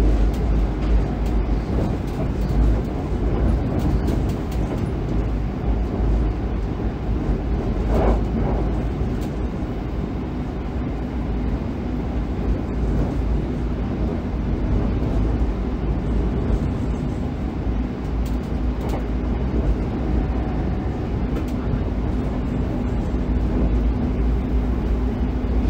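A London Underground Metropolitan line train runs along the tracks, giving a continuous broad rumble with faint clatters and a few louder knocks from wheels crossing junctions, heard steadily throughout.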